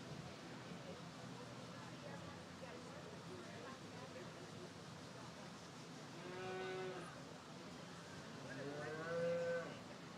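A calf moos twice during a beef cattle show in the show ring, loud calls rising over a steady crowd murmur and nearby talk.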